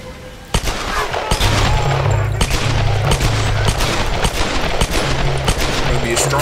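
Rapid automatic gunfire from Tomb Raider Definitive Edition rattles in loud, dense bursts with sharp individual shots over a low droning bed, close and continuous throughout.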